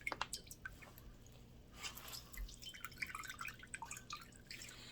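Wet squishing and dripping as fire cider is squeezed by hand out of steeped vegetables, herbs and fruit, a close series of irregular squelches and drips with no talking.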